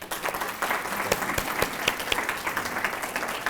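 An audience at an educational access conference luncheon applauds, a dense steady patter of many hands clapping with a few sharper claps standing out, briefly and without talk.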